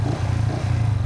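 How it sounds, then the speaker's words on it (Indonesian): A manual-clutch motorcycle engine idles steadily up close, a continuous low throbbing rumble with no talk over it. "Nih dengar, ini suara mesinnya masih hidup."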